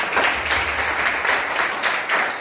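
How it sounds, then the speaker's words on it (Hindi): Applause at a Sunday church service: a congregation claps in a steady, rhythmic, fairly loud burst with a pulsing beat, brief and continuous. "जोरदार तालियां।"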